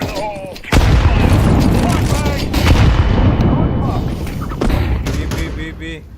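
A grenade goes off in Counter-Strike 2 with a sudden, loud, close blast that rumbles on with scattered gunfire and thuds, while players talk over the noise.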